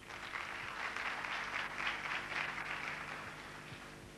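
Audience at a comedy show in Paraguay applauds to pick a young woman, a steady, fairly distant wash of clapping that rises slightly in the middle and continues without speech.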